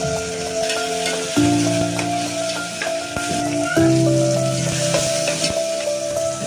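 Mustard seeds, cumin, onion, tomato and whole chillies fry in hot oil, giving a steady loud sizzle with crackles and stirring clatter throughout.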